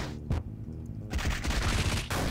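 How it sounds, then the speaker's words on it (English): Rapid machine gun fists attack in the video game Lisa, a fast rattling burst of punch-like gunfire hits after a single sharp shot, loud and close with no talk. "Let's use some machine gun fists while we still have the skill points."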